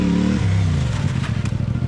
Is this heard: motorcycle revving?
yes